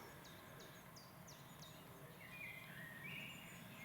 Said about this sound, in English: all I'm hearing is the omnipresent chiff-chaff